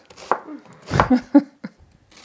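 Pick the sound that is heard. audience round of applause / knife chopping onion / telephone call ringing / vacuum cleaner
knife chopping onion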